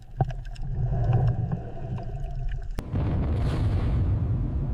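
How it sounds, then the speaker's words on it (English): A ship strikes an Iranian naval mine in the Gulf. Over low engine rumble, a sudden sharp blast cuts in and is followed by a loud sustained roar and wash of churning water. "the ship struck an Iranian naval mine. The explosion tore a 15-foot hole in the hull."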